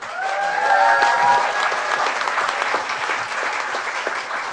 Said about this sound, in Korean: 자, 1번 타자 우리 유승민 후보 박수 쳐주십시오.